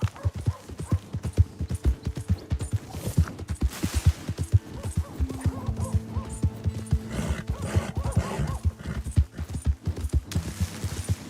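A horse in Red Dead Redemption 2 clops along with steady, close hoofbeats, and a whinny breaks in partway through over faint background sounds.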